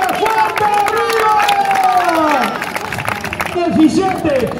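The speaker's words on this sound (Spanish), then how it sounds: "¡Ese grandísimo aplauso!" Spectators along the course of a half marathon in A Coruña clap and cheer runners, a dense, lively crowd noise under loud shouted announcing from a nearby voice.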